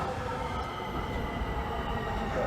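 A rapid transit Skyline train rumbles past steadily, a continuous loud low roar of wheels and cars with no voices over it.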